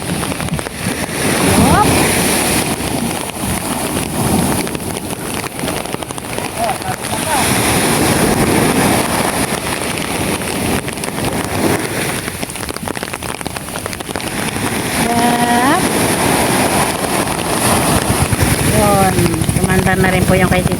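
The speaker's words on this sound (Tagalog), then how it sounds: "Kumandar na rin po yung kay Tito Deo." A diesel engine drives a bangka outrigger boat at sea, its low drone partly buried under heavy wind buffeting and splashing water, with people talking over it throughout.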